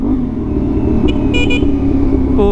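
Steady engine drone from motorcycles on a group breakfast ride with CF Moto 450SR bikes, as a car passes and two short horn toots sound in the middle, with another brief beep near the end.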